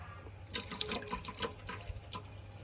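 Unsweetened milk poured from a can into a sago and cantaloupe mixture, making a soft, continuous close splash and trickle for a few seconds, with no voices.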